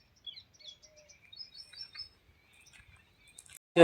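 Small birds chirp outdoors, a sparse run of thin, high tweets at moderate distance over near silence, ending in a sudden loud knock.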